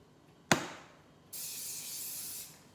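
A short burst of cooking oil spray hisses onto a non-stick baking tray, preceded by a sharp click of the can, a light, close spray lasting about a second in a quiet kitchen.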